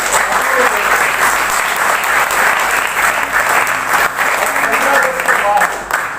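Loud, sustained applause from an audience at a team event, dense and continuous clapping filling the whole stretch with a few voices mixed in.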